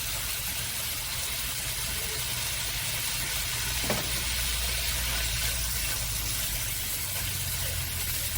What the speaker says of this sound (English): I'm going to put a tablespoon of minced garlic in here